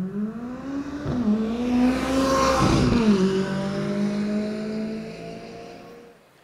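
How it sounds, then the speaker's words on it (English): McLaren 570S sports car engine rising in pitch as it accelerates, a smooth whirring wail that swells loud midway and then eases off into a lower, steady drone. "The noise this car makes is also pretty special."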